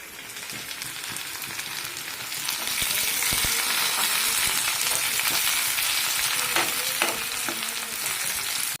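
Curry leaves crackle and fry in hot oil, a steady close sizzle that swells in loudness partway through, with scattered pops and stirring scrapes and no voices.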